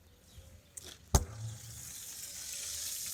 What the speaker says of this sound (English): You can see the bacon is crisp. It's sizzling.